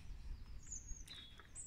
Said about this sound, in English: Look at him, because he hears the birds.